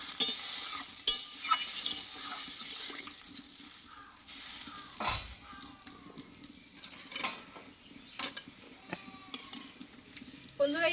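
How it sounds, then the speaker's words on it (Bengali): Potatoes bubble in water in a pan for a fish curry, with a watery rumble under scattered clinks and scrapes of a spoon stirring, some strokes louder and close. "এইবার এখানে পরিমাণ মতো জলটা দিয়ে দেবো আলুটা একটু আমি ফুটিয়ে নেব"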